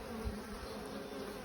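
Honeybees hum in a steady, close, continuous drone during a spring hive inspection, with no voices in the moment.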